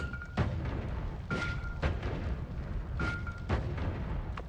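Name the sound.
explosion in the video game Noita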